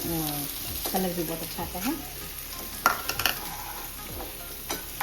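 Chopped onion fries in a pan for a spiced arbi-leaf curry with a steady sizzle under repeated scraping strokes of a spoon, and a few sharp clinks. Someone speaks briefly over the cooking.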